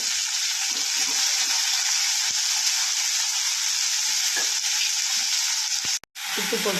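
Curry leaves, garlic and ginger sautéing in a pan for chutney, a constant close sizzle with occasional stirring clinks, briefly cut near the end.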